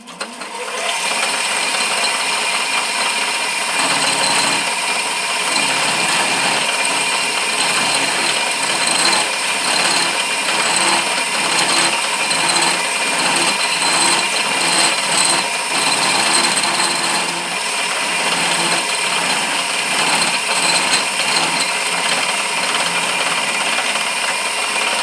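A hand-held lathe cutter shaves a spinning walnut wood blank, giving a steady, loud, continuous grinding whir with a rough, chattering texture that runs unbroken for the whole stretch, with no voices.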